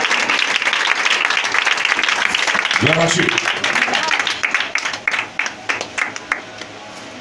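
A church congregation applauds and acclaims after a scripture reading, a dense wash of clapping and cheering with a voice calling out partway through, thinning into scattered claps toward the end.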